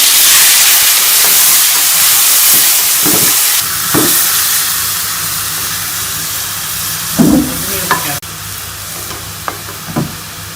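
Tomatoes tipped into browned onions frying in a pan for chicken tikka biryani: a loud, steady sizzle close up that dips as they go in, followed by a few spoon stirs and scrapes.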